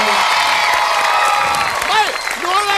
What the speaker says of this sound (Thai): ปรบมือให้ยอดฝีมือหน่อยครับ